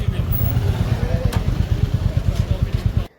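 A motorcycle carries riders on the way to a graveyard on Shab-e-Barat, its engine chugging in fast, even low pulses close by for about three seconds before cutting off abruptly.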